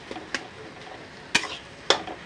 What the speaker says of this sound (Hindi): इसे भी अच्छे से मिक्स करेंगे